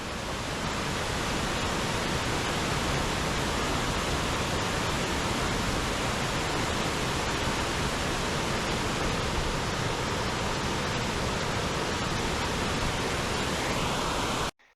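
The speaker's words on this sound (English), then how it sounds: "I'm sure the rain and snow above us made this little waterfall even more impressive." Rushing water at Athabasca Falls, a mountain waterfall swollen by rain and snow: a loud, steady, full roar that holds for almost fifteen seconds and then cuts off abruptly, with no voices.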